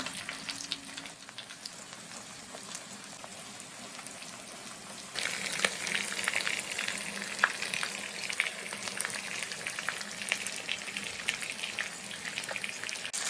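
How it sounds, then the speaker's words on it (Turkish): Chicken pieces sizzle and fry in a pan over low heat, a steady close crackle that grows louder and busier partway through, with occasional stirring sounds and no talking. "Evet, tavuklarımı çeviriyorum. Kısık ateşte pişiriyoruz."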